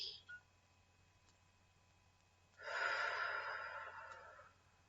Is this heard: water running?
no